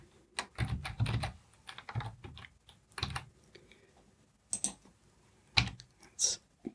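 Typing on a computer keyboard while building a Power Query formula, irregular clusters of crisp close keystrokes and clacks with pauses between them, fairly quiet and with no talk.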